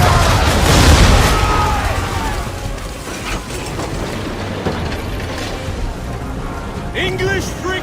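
Ship cannons fire a broadside in the Assassin's Creed 3 game. A loud booming roar of cannon fire opens the sound and then trails into rumbling and creaking mechanisms while voices talk over it.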